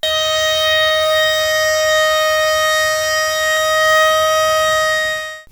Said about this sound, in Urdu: صبح 8:52 پر زلزلے کے وقت کی یاد تازہ کرتے ہوئے سائرن بجایا گیا